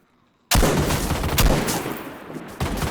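Gunfire in the video game DayZ: a sudden loud burst of shots erupts after a moment of quiet, followed by rapid, sustained firing and another sharp volley near the end, close and harsh.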